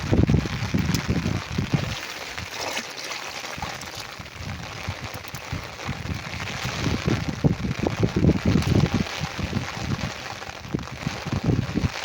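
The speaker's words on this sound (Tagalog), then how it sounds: "Huminahina na po yung ulan." Steady rain falls in a continuous broadband hiss, easing slightly over its length, with occasional low rumbling gusts and no voices heard.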